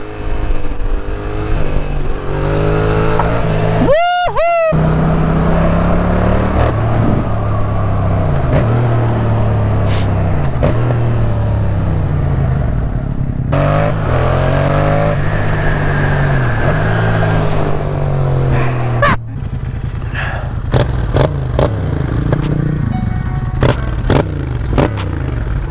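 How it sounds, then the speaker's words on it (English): Yamaha MT-07 motorcycle with a new aftermarket exhaust being ridden, a loud continuous engine roar rising and falling through gear changes and revs, with brief clattering and scraping bursts and wind noise, no voices. "First ride on the MT with a new exhaust."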